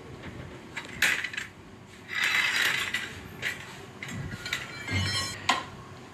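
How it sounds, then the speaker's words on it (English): A car jack is lowered beside a tire, giving soft metallic clinks and ratcheting clicks in scattered bursts, fairly quiet and close with no talk. "Now bring the jack down."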